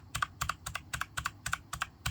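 Keys on a HyperX clicky mechanical keyboard, treated with silicone oil and fitted with key rings, tap out a steady, even rhythm of about nine close, moderately loud keystrokes, each with a slight double click.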